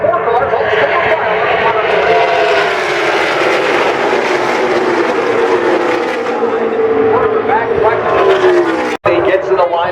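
Stock cars roar past at Talladega in a loud, dense pack, a sustained engine drone that shifts in pitch as the field passes close by, with a race commentator talking over it throughout.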